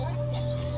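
A dog whimpers in the video game A Plague Tale: Innocence, a brief, steady high whine held over a low constant hum for under a second.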